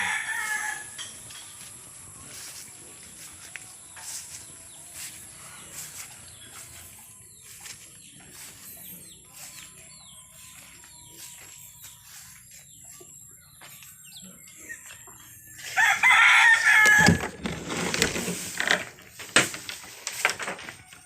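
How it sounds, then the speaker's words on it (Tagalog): Backyard chickens, including white kelso birds, cluck softly and intermittently before a rooster breaks into a loud, close crow near the end, followed by more clucking. "pakita ko sa inyo guys yung mga alaga naming mga manok."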